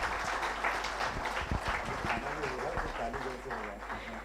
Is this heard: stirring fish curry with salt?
no